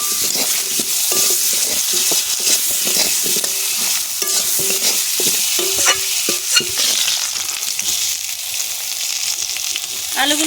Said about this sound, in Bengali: কেটে রাখা আলুগুলো সব ভেজে নেব।